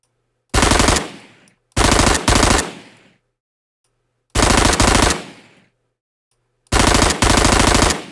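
Designed machine gun burst fire made with the Krotos Weaponiser plugin: five loud, rapid bursts in short groups separated by silent gaps, each with a fading tail and no voices.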